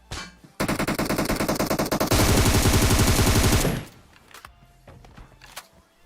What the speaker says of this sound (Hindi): यहाँ पे अभी गोली चलती है